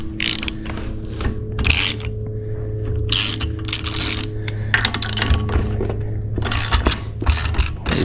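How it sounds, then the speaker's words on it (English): A vise being tightened on a wooden table outdoors, giving repeated ratcheting and metallic clicking in short bursts, close up, over a low steady hum. "Tighten this vise down a little bit. It's kind of loose on this wooden table"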